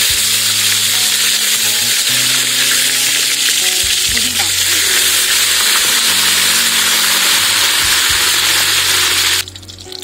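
Fennel seeds and curry leaves fry in hot oil in a pan in a village kitchen, a loud, steady sizzle with stirring scrapes, cutting off near the end.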